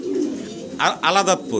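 Pigeons cooing at a pigeon farm, a few soft throaty coos close by, partly under someone speaking.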